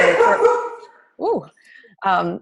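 A dog barks in two short, yelping bursts after a stretch of talking, coming through a participant's open microphone during an online church meeting.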